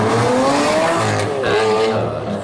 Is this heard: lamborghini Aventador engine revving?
yes